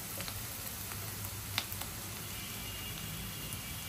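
Onion and garlic frying in oil in a pan for a dry-roasted loitta shutki dish, giving a steady low sizzle with a few small ticks and stirring clicks.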